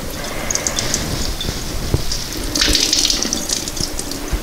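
Water runs and drips as a washed wool fleece is gently squeezed in a kitchen sink, a steady splashing trickle that swells midway with no voices.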